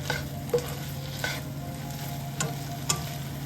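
Chicken fajitas sizzle steadily in a hot frying pan, and a few scraping tosses from a spatula stand out briefly over the constant nearby frying hiss.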